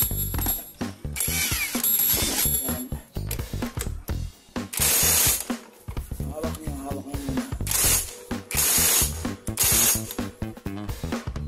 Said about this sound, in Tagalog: gamit tayo na yung impact wrench dito